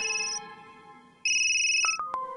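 In a cartoon, an outgoing phone call rings with two sustained electronic tones separated by a pause, then a few sharp short beeps at the end.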